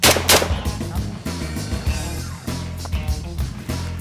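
Rapid bursts of gunfire at a firing range near Khao Chon Kai, loud close shots in quick succession with brief gaps, while people call out in the background.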